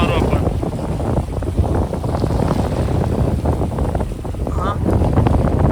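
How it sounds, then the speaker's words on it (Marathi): Strong wind at sea aboard a fishing boat, a steady loud rushing roar buffeting the microphone throughout, with voices talking faintly underneath. "आज हवा भरपूर सुटली."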